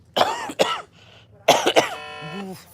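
Two pairs of harsh coughs a second apart, close and clear, with a brief throaty rasp at the end.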